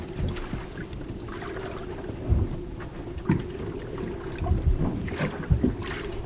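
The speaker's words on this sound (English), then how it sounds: "The wind picked up and with that the waves." Wind and waves at sea on a sailing boat near Minerva Reef, a low rumbling wash with gusts and occasional louder thumps of water against the hull, no voices.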